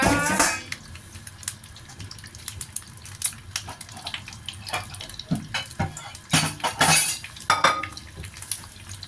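Raw shrimp tipped into a pan over moderate heat for dry-fried Thai shrimp, with clattering utensils and a wet hiss and crackle close by, in irregular bursts and no talking.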